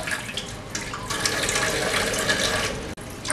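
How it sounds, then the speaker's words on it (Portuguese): Kitchen tap running at a modest flow while collard green leaves are washed under it, a steady close splashing of water into the sink that continues throughout, with no talk. "lavando direitinho, não precisa abrir muito a torneira."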